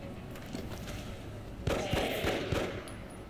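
Pistol shots in the video game XCOM, a few sharp reports in quick succession over a steady background of game ambience.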